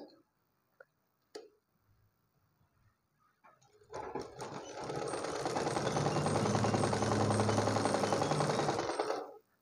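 A sewing machine stitching a blouse: a few isolated clicks, then a steady, close mechanical whir that runs evenly for about five seconds before stopping.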